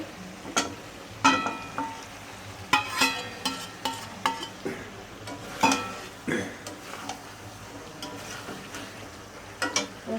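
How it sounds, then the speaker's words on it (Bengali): Pre-fried chicken pieces go into a pan and get stirred, with a spatula knocking and scraping in irregular strokes over a faint sizzle, nearby and without speech. "এখন আমি ভেজে রাখা চিকেনগুলো দিয়ে দিচ্ছি"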